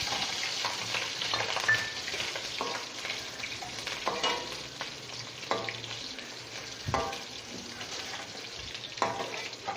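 Green chilies sizzle and fry in a pan of chana pulao, a steady crackling hiss with occasional stirring scrapes throughout, close and continuous with no talking.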